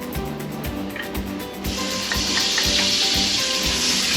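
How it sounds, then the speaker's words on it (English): Onions dropped into hot bacon grease in a pan, a bright broad sizzle that erupts partway through and holds steady and loud, with faint rhythmic clatter beneath it. "What we're going to do now is leave that bacon grease in our pan. We're going to cook our onions."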